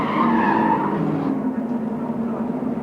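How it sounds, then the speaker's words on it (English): Radial tyres squealing on Group 3E series production racing cars, including a Turbo Mazda RX-7, at Calder Park in 1988, a loud sustained tonal screech over engine roar that fades slightly, with no talk. "it's real radial squeal that you hear in this form of racing"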